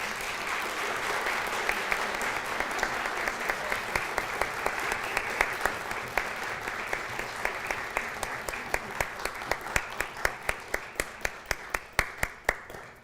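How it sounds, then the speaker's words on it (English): An audience applauding a graduating diagnostic medical sonography class, a steady crowd clapping throughout that turns into louder, more distinct individual claps near the end. "If you'll give them an applause."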